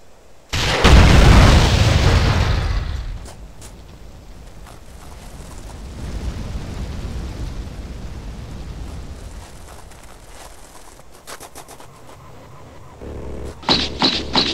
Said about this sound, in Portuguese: As explosões tá facilitando aqui matar ela.